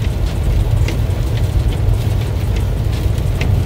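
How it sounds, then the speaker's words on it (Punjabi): Heavy rain beating on a truck windshield during a windy day in Calgary, a dense continuous drumming hiss with low engine rumble beneath, steady and close throughout. "ਹੁਣ ਮੀਂਹ ਬਹੁਤ ਜ਼ੋਰ ਸ਼ੋਰ ਨਾਲ ਪਈ ਜਾਂਦਾ ਯਾਰ,"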